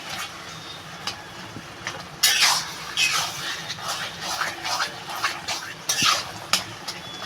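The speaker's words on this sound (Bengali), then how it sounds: "এখন শুধু এরকম ঘুটে দিতে হবে একদম মিশে যাবে সব" Cooked taro leaves (kochu shak) being mashed and stirred in a pot, with irregular scraping and sloshing strokes of a utensil, some louder bursts standing out against a quieter background.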